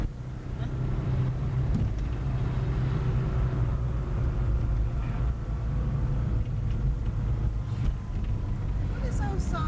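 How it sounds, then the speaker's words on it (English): A car drives fast through Toledo, Spain, with a steady loud engine and road rumble plus wind buffeting throughout, while people talk inside over it. "that's because Birdie's driving fast"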